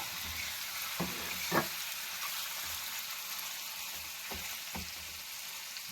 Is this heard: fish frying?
yes